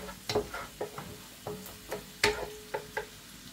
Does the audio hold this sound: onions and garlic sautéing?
yes